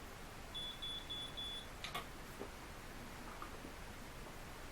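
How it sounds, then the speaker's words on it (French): A short series of thin, high electronic beeps from a Miracurl hair curler, three or four evenly spaced, followed by a click and quiet background hiss. "à chaque fois en fait que vous augmentez dans les largeurs de boucle, vous avez un bip en plus"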